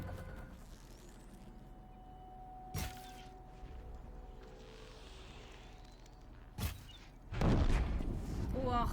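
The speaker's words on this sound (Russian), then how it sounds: "Вот это выстрел." Two sharp gunshots in the video game Horizon Zero Dawn ring out several seconds apart over a low background rumble, followed by a louder burst of noise at the end; a voice speaks briefly.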